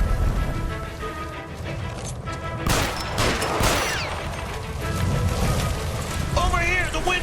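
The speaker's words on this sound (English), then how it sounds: "Shoot the gas line!" Gunfire in the video game L.A. Noire as a gas line by a stove is shot, loud bursts and crashing amid chaotic game noise, with shouting voices throughout.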